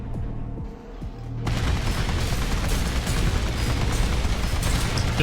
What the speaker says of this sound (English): The fact that the magazine is bigger seems to make these machine guns much better.